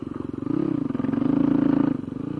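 A motorcycle on a road into a corner: a close, loud steady engine drone with a pulsing rhythm that rises in pitch briefly and then settles, heard alone without talk.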